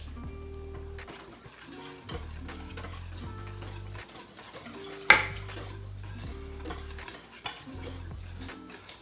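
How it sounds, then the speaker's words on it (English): A metal whisk beats pancake batter in a bowl for fluffy pancakes: a steady run of close clinks and scrapes against the bowl over a low background hum, with one sharp louder knock midway. "I don't know how long you're supposed to whisk it for,"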